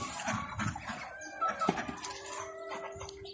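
Hens cluck and a rooster crows on an egg farm with laying chickens and ducks, several birds calling in overlapping bursts at moderate distance, fairly quiet.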